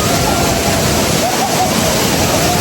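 Thiruparappu waterfall pours with a loud, continuous rushing roar, close and steady, with faint gurgling and sloshing textures mixed into the dense water noise.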